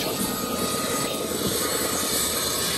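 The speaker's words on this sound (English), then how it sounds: "chopper, chopper, chopper, chopper, chopper, chopper," A helicopter in the Arma 3 military game flies close by, its engine and rotor making a steady, loud, continuous drone throughout.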